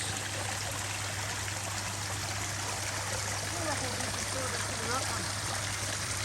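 Creek water flows steadily into a freshly cleaned-out pond, a continuous trickling and gurgling stream that stays even and close throughout.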